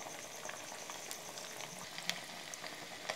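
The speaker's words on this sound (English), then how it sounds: "you just fry it and wait for 2 minutes to make it completely brown from one side" Sabudana pakodi sizzle steadily in hot oil with a soft, even crackle and a few small pops, heard up close and fairly quiet, with no voices.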